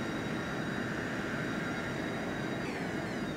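A steady, loud aircraft engine hums and whines continuously after start-up in a flight simulator home cockpit, with tonal whine over broadband roar and no talking.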